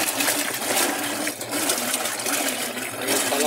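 A Whirlpool Cabrio washing machine with an F51 fault, which won't finish its wash cycle, fills with water: a steady broadband rushing and splashing hiss with a low hum underneath and brief dips, close and fairly loud, with no speech.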